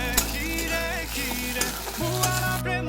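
Onions and freshly added tomatoes fry in a pan for a home-style chicken curry, with steady close sizzling and the scrape and clatter of a spatula stirring throughout.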